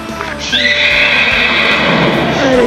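A rescue mare being considered as a parade horse at a fall gala lets out a loud, drawn-out whinny that rises and holds for about two seconds, close and clear over faint background noise.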